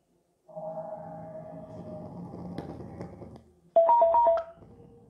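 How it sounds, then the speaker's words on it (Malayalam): Music plays through a small JBL Go 2 Bluetooth speaker: a thin, tinny melody with steady tonal notes, then a louder burst of bright, repeated short notes near the end, heard up close with no talk. "ഇത് നമുക്കൊരു മ്യൂസിക് പ്ലേ ചെയ്ത് നോക്കാം."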